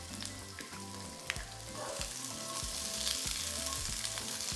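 Onion and garlic cloves sizzle steadily in hot oil in a saucepan, a continuous close crackle with occasional stirring clicks and no voices.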